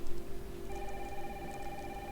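Phone ringing in the video game Resident Evil Requiem: a steady electronic ringing tone that starts after a brief moment and holds, moderately loud over a low background hum.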